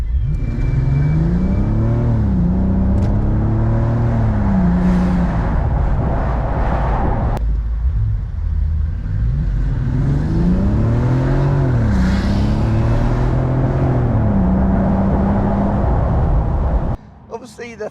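A Bentley Continental GTC accelerates hard at A-road and motorway speeds, its engine note rising and falling through gear changes as a strong, close, continuous roar with a voice talking over it.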